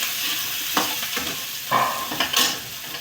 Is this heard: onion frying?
yes